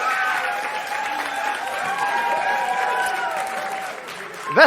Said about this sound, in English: That's the biggest round of applause I get tonight